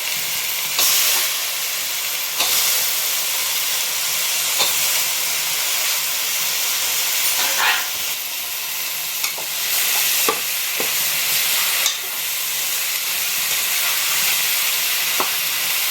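Garlic and chopped eggplant fry in hot oil for a dried fish curry, a loud steady sizzle and hiss close by, broken by occasional clinks and scrapes of stirring, with no talk.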